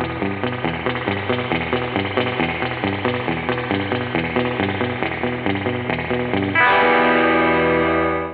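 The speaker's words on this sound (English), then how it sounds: "Let's plug into the standalone Fender reverb unit now." Electric guitar played through a standalone Fender spring reverb unit set for a drippy surf sound, a steady picked rhythmic pattern with wet, splashy reverb tails, ending in a sustained ringing chord that fades out.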